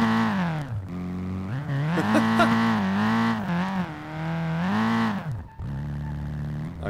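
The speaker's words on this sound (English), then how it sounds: "let's try and drift this car" A Nissan S13 in the racing game SLRR revs hard while drifting, its engine note rising and falling through gear changes, with brief tire squeal mixed in before the engine cuts out near the end.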